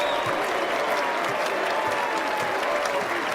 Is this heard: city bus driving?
no